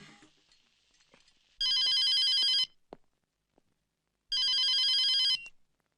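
A telephone bell rings in two loud bursts of about a second each with a pause between, close by and otherwise quiet; it is heard in a home scene with household talk around it.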